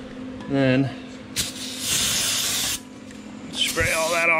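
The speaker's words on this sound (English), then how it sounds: "spray all that off." A steady hissing spray of brake cleaner lasting over a second, close by, washing brake fluid off a Harley-Davidson Dyna's master cylinder area, with brief voices just before and after it.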